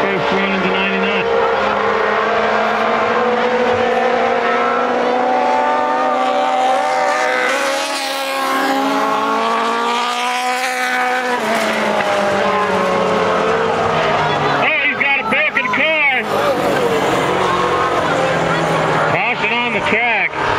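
Mini sprint race cars roar around a dirt oval in a main event, engines howling loud and continuous with rising and falling pitch as cars pass close, a commentator talking over the racing throughout.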